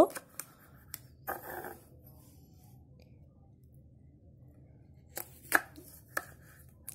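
A knife slices okra on a cutting board for frying: several sharp, clear chopping knocks, spaced irregularly with quiet gaps between them, close and alone.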